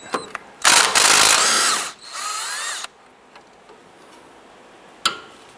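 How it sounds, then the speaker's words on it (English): A wrench working a 14mm nut loose from the front swivel link of a 2007-2012 Nissan Versa: two loud bursts of ratcheting and grinding metal, then near silence with a brief clank near the end. "we're going to put our wrench on that and loosen and remove this nut"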